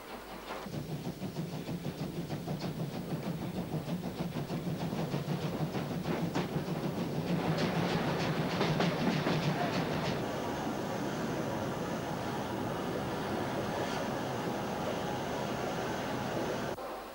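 Steam express locomotives haul international trains along Berlin's Stadtbahn in the 1930s, a steady rumbling rail roar with wheel clatter that swells mid-way and then settles into a continuous passing train.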